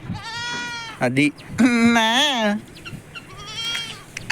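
Goats in the Kuwait desert give several loud, wavering bleats at close range, one long quavering cry standing out, while someone speaks briefly between the calls.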